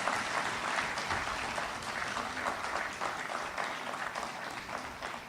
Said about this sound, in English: Can we have just another round of applause for Ken?